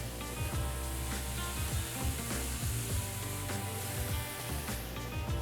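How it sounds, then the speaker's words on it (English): Bouillabaisse base with herbes de Provence sautéing in a pan, a steady close sizzle with faint stirring clicks throughout and no voices. "everything's sauteing"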